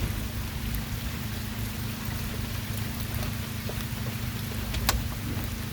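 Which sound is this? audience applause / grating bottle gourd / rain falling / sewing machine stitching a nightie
rain falling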